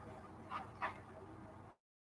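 A dog lets out two quick, faint whimpering yips over a noisy background, then the sound cuts abruptly to silence.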